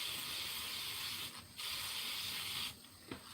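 Adhesive spray is applied in two sustained hissing bursts from an aerosol can, close and fairly loud, each ending abruptly, with a brief click at the end.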